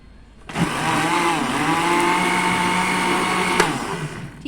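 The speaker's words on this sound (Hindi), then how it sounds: "अब मैं इसको जो है ना ब्लेंड करूँगी" An electric blender whirs up juice with sugar and black salt, starting abruptly after a short pause, running loud and steady for about three seconds, then cutting off.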